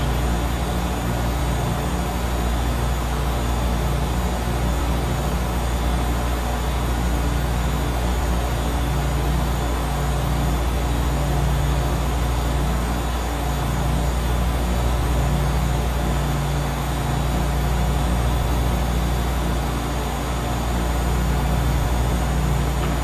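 A Cape Air plane in a flight simulator game taking off from Syracuse, a steady, loud engine drone with a constant hum throughout and no rise or fade.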